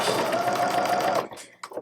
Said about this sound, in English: you're going to start sewing down that side